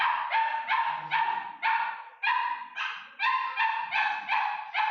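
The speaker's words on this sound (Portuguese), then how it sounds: "Agora alguém vai dar um jeito nos cachorros para poder parar de latir" Dogs bark repeatedly in quick, high-pitched bursts, about a dozen sharp yaps in an uneven rhythm, fairly close and unaccompanied by speech.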